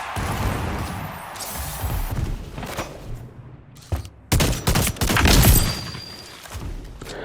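Burst rifle gunfire in Splitgate 2, heard as several clustered bursts of sharp shots with recoil thumps and bright crackling mixed into game noise, loudest in the later half.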